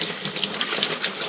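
Water from a plain garden hose gushes steadily onto a Pro Pur water filter, a close, continuous hissing splash with no pauses.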